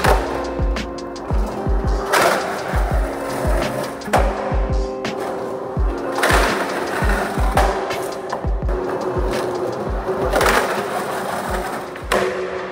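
Skateboard doing slappy backside 50-50 grinds on a curb, repeated wheel thuds and rolling clatter with scraping grinds of the trucks, recurring in cycles with no voices.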